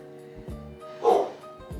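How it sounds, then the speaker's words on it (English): A pet dog barking indoors at home, a single loud, sharp bark in the middle with a few softer yips and snorts around it, no one talking. "stop barking"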